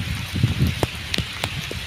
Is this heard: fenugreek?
no